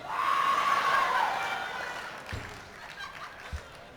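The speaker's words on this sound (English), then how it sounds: "I noticed a few yelps out there" A crowd at a stand-up comedy show in Hawaii lets out whoops and a rising, wavering yelp, then the cheering fades into scattered murmurs and a couple of soft knocks.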